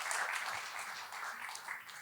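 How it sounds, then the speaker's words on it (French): An audience at an entrepreneurship talk applauds together: a steady wash of many hands clapping at fairly low volume for about two seconds, with no speech over it. "peut-être qu'on peut s'applaudir soi-même pour ceux qui sont entrepreneurs ou qui veulent le devenir"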